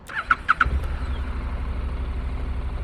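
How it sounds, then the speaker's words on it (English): A 2014 Honda CTX700 DCT motorcycle starts at the push of a button: a few quick cranking chirps, then the engine catches and settles into a steady low idle, close by with no talk. "So now let's start this Honda up."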